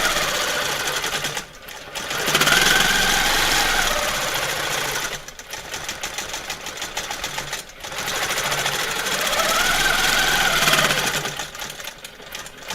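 A sewing machine free-motion quilts a feather pattern. Its needle clatters in two long fast runs, each stopping for a brief pause, loud and close with a steady mechanical buzz.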